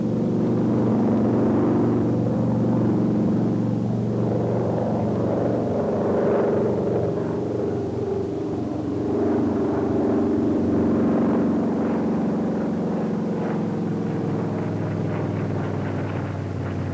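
SB2A Buccaneer warplane flying a chandelle, entered at 205 knots: a steady, loud piston-engine drone with propeller roar and wind rush, pitch shifting slightly as the aircraft climbs and turns, no voices.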